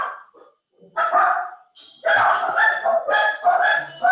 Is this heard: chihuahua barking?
yes